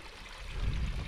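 A mountain stream in the Lake District rushes and gurgles steadily, a soft, close wash of running water swelling slightly in the low range, with no voices.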